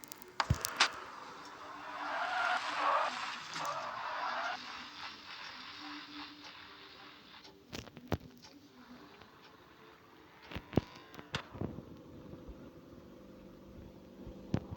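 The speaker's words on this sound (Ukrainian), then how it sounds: "Доїде наша моя машина сама доїде, не переживайте!" A car drives along, with a broad hissing rumble of engine and tires that swells over the first seconds and then fades. Scattered clicks and knocks follow.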